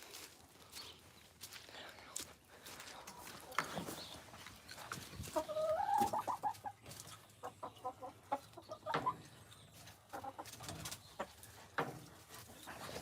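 Chickens cluck and call outdoors on a muddy Minnesota farm, a cluster of short clucks and squawks around the middle, mixed with rustling, footsteps and other farmyard noise.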